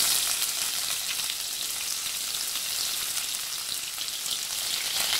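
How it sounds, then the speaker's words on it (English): Onions fry in oil with bay leaf, cinnamon sticks, fennel, cloves and star anise over a medium flame, giving a continuous even sizzle, steady and fairly soft, with no speech. "And fry it till the raw smell goes off."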